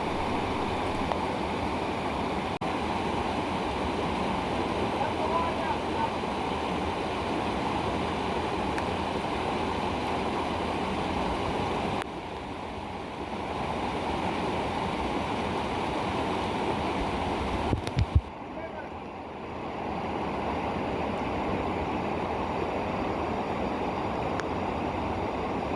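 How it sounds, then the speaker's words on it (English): Roar of Glassy Falls, a waterfall on the Missinaibi River in the northern Ontario backcountry, a steady, full rush of falling water that holds unbroken, with two brief dips where the roar softens. "We've arrived at Glassy Falls."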